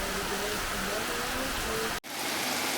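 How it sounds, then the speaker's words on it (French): Steady rain pours in Balata garden, a dense hiss of drops on leaves and surfaces. It continues unbroken except for a brief cut near the end. "Même pas peur de la pluie"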